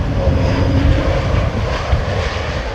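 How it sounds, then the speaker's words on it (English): An airliner lands in a crosswind on a windy, rainy day at London Heathrow and applies reverse thrust, giving a loud, close, continuous engine roar that holds steady with no voices. "Go on, a little bit of reverse, like the 220s do"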